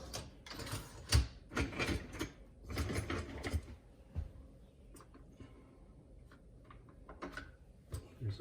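A dishwasher's washer arm assembly is being taken out, giving a run of close plastic clicks, knocks and rattling clatter in irregular bursts, with quieter scattered ticks toward the end.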